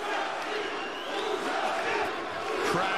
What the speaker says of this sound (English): Crowd here is pro Mousasi. You can hear them. Chants ringing around this arena.